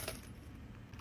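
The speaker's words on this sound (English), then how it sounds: "Skeleton keys." Metal skeleton keys jangle briefly and faintly, a short metallic clink at the start followed by a soft, steady rustle, with no voices.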